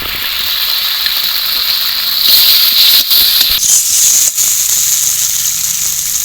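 Ground cashew paste goes into potatoes frying in oil, setting off a loud, steady hiss that swells and sputters for several seconds, close and with no voices.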